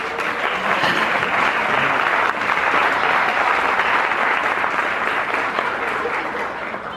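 Loud, sustained applause fills a hall at a Polish school's 40th anniversary ceremony in Riverhead, a thick continuous roar of many hands clapping with no break.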